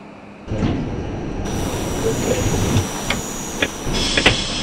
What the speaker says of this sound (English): This is a Brooklyn-bound J train.